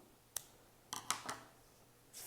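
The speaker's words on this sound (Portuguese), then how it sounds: "Vou cortar o meu fio." Scissors snip through crochet yarn at the end of a small flower-motif crochet placemat, a few quiet, crisp cuts in separate bursts, close and alone.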